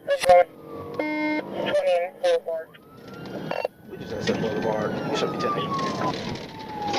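A police patrol car's emergency siren wails and yelps during a high-speed pursuit recorded on dashcam, with electronic beeps and chirps at first, then a rising and falling wail under radio chatter and talking.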